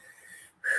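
A single wheezy breath with a thin whistling tone, close and short, ending in a louder sharp burst.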